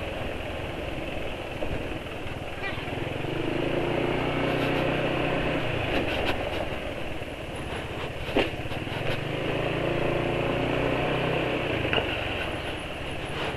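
Car engine idling smoothly with a frying-oil additive mixed into its motor oil, a steady close-up hum running continuously with a few faint clicks and knocks, no talking.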